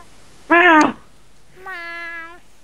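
A cat meows twice as a sound effect in a Minecraft hide and seek game: first a loud, short tone, then a softer, longer, steady one after a brief pause.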